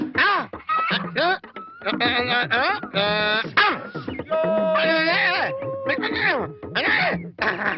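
A voice imitates chickens with loud, rapid clucking and squawking in close, continuous bursts.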